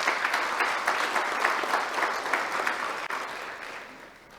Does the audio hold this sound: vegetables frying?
no